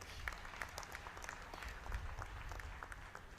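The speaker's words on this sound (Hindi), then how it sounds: "मेरी बात सही हो तो ताली बजाइए" An audience at a political rally in Kurukshetra, Haryana, addressed by Union minister Rajnath Singh, gives faint, distant applause: a continuous patter of many hands clapping.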